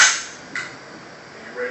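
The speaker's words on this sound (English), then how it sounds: "Pull the the charging handle back." An AR-15 rifle's charging handle gives one sharp metallic snap right at the start, followed by two softer mechanical clicks spaced apart in a fairly quiet room.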